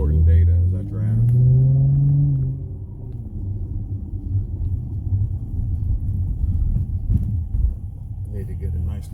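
A Dodge Journey Sport's engine drones as a low, steady rumble from inside the car while driving, with a voice talking over the first couple of seconds.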